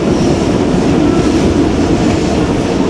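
Kohat Express passenger train running on rails near Kohat railway station, a steady loud rumble of wheels and carriage noise throughout, heard from inside the moving train with no talking.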